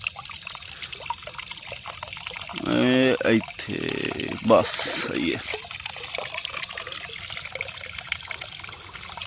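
Water pours into a drum at a village, a loud rushing gush for a couple of seconds that fills and settles, with people talking before and after.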